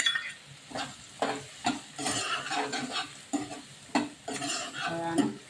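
Ragda mixture with added tomato being stirred in a pan, rhythmic scraping strokes of a spoon against metal over a soft sizzle, close and clear with no talking.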